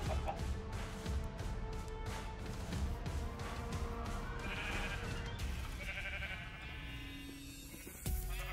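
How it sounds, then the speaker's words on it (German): Sheep bleat in a Minecraft survival game, several short bleats over steady game background sound that stays fairly quiet throughout. "Ich kann auch die Schafe jetzt erledigen"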